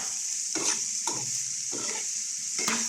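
Squid and green papaya sizzle in a hot pan while a spoon stirs them in four distinct scraping strokes over a steady frying hiss.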